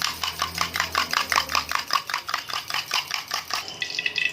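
An egg whisked in a bowl with a fork or whisk, a rapid run of about twenty close metallic clinks in a steady beat, with no talking.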